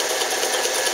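An Alden manual zigzag sewing machine stitches in a brief, steady mechanical whir with a fine rapid needle rhythm, close and even, with no talking.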